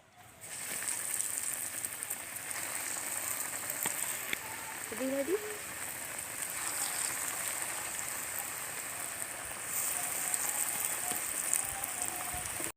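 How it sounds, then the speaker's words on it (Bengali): Lote fish chops fry in hot oil, a steady close hiss and crackle that runs the whole time, with a faint voice briefly in the background. "এবার বাকি চপগুলো আমি একই রকম করে ভেজে নেব"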